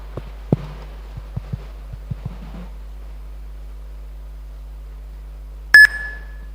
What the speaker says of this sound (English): Just hold on until you hear the beep